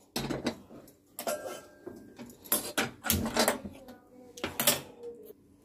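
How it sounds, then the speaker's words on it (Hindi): A kadai (wok) is set down on a gas stove, giving several sharp metallic clanks and scrapes of cookware in short bursts, close by, with no talk. "गैस पर कढ़ाई चढ़ाएंगे।"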